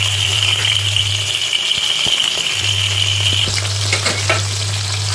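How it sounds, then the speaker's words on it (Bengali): Prawns lowered into hot oil in a pan, giving a loud, dense, continuous sizzle with crackling bursts and a low steady hum beneath, no talking. "গরম তেলের মধ্যে চিংড়ি মাছগুলো আস্তে আস্তে ছেড়ে দেবো"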